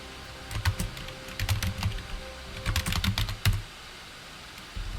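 Bursts of keystrokes on a computer keyboard while entering a character name in the desktop version of Star Equestrian, clustered in quick runs with short pauses, then quiet for the last second.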